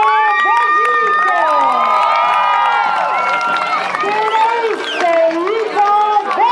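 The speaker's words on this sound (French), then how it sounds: "Applaudissements pour eux." Rodeo arena crowd at a youth event cheering, whooping and clapping for young riders under thirteen, a loud, dense wall of voices with children shouting, while an announcer talks over it throughout.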